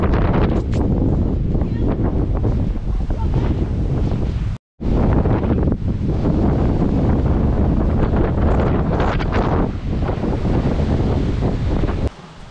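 Strong wind buffets a campsite after a storm, a loud continuous roar with gusty rumble hitting the microphone, briefly cutting out for a moment midway.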